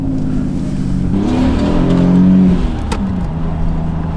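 Toyota Aristo accelerating hard, its engine note climbing in pitch as revs build, loud and close from inside or beside the car, then easing off near the end.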